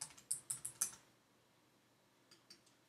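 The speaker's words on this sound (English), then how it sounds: "then type your word. So I'm going to type happy birthday," Typing on a computer keyboard, a quick run of sharp close key clicks followed by a pause and a couple of softer single taps, quiet room with no voices.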